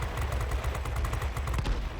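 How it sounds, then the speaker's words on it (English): Rapid bursts of cannon fire from a Tier X XF-90 heavy fighter in World of Warplanes, a continuous, dense rattle of low thudding shots lasting about two seconds with no talk. "let's see how powerful these cannons can be against a full health aircraft"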